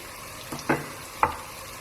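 Dry ground spices, turmeric first, hitting hot oil in a curry pan: two or three short, close sizzling bursts over a soft steady frying hiss.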